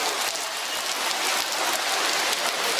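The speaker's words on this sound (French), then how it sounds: "Mais la pluie s'intensifie aussi lentement." Steady rain falling on a street in India, a dense, loud hiss of drops striking the surface that continues without a break, with no voices.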